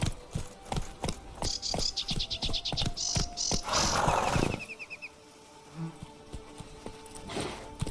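Hooves of Roach, Geralt's horse in The Witcher 3, pounding in quick rhythmic beats, fading out amid chirpy game ambience and a brief whooshing gust, with a few scattered thuds afterward.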